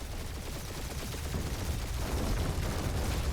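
Sustained turret gunfire in the Guardians of the Galaxy video game, a dense, continuous barrage of rapid shots and explosions that grows heavier toward the end, with no talk over it.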